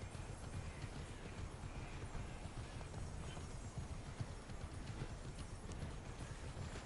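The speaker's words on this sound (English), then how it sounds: "go quickly by horse." A horse gallops in the video game Immortals Fenyx Rising, a quiet, continuous run of rapid hoofbeats over a steady background with no voices.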